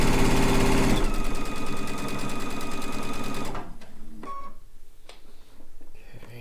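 A sewing machine runs fast and steady while piecing a quilt top, a loud dense mechanical whir that drops off after a few seconds into quieter clicks and handling noise.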